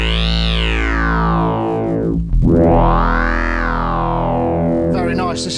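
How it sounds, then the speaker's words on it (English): A loud synthesizer sine wave sweeps down and back up through a Cre8audio Eurorack wavefolder module, producing a bright, buzzy harmonic-rich sound that ends in a brief noisy burst. "this is the sine wave"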